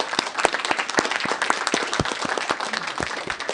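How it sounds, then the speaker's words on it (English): An audience applauds panel speakers at a Middle East strategy forum, a steady, dense burst of many hands clapping for several seconds with no talk over it. "Please join me in a round of applause for our speakers."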